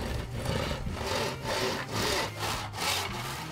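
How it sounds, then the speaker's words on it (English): A hand saw cuts hardwood trim into equal lengths for a maypole crown, loud and close, in steady back-and-forth strokes of about four rhythmic pulls with no talking. "I'm cutting up some hardwood trim into four pieces of equal lengths"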